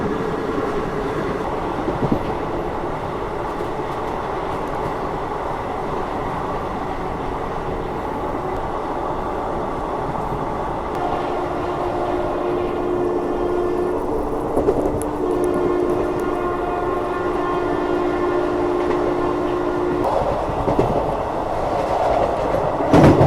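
The New Delhi-Howrah Special train runs continuously at around 100 km/h, a steady loud rumble with rhythmic clatter and a faint tonal whine partway through, heard from inside the moving train.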